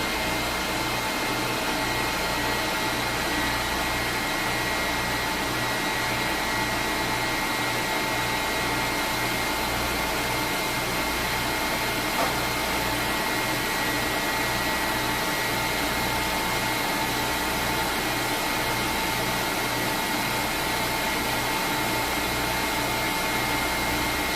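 A hair dryer blows out long, freshly washed hair with a steady, loud whooshing whine that holds unbroken for the whole stretch, with no talking.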